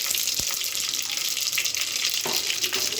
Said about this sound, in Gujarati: રાઈ ફૂટે